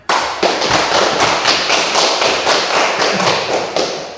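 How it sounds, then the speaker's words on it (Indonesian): Audience applause at a religious education class after a Bible reading from Genesis, a steady dense patter of clapping hands that starts sharply and carries on evenly for several seconds before easing off. "Kita memberikan aplaus kepada"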